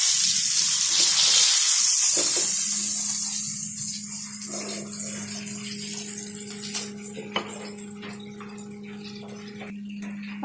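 Black pomfret fish frying in hot oil in a pan, Karwar style, a steady broadband sizzle and crackle that starts loud and settles into a softer continuous hiss with a low hum beneath, no talking.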